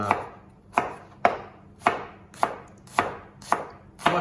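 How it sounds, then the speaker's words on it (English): Steady knife strokes chopping onion on a cutting board, eight sharp, evenly spaced thuds about half a second apart, close and clear with no talking. "now it's just a matter of chopping all these ingredients up"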